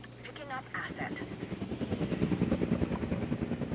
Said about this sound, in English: that transport chopper came in close